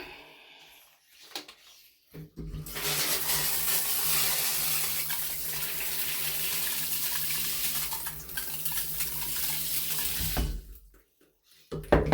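Water runs steadily from a tap in a rental room, a continuous close rush lasting about eight seconds before being shut off.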